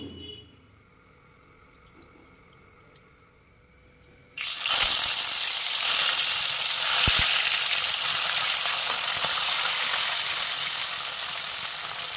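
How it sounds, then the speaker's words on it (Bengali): Fish frying in a pan: a quiet kitchen gives way to a sudden, loud, steady sizzle that continues close up for the rest of the stretch. "মাছ ভাজা হয়ে গেছে, আমি মাছ তুলে নিলাম।"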